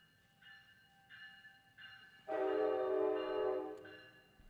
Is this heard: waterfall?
no